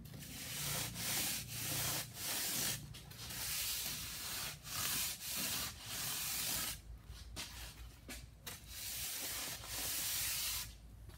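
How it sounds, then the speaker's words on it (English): A foam float rubbing grout on a tiled shower curb: steady, close, rasping strokes in a repeated back-and-forth rhythm with short pauses, lasting the whole stretch with no talk. "you can just rub out the extra that you put into the float strips here."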